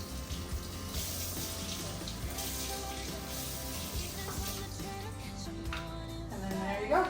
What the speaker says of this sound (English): now I'm gonna just add water to the rest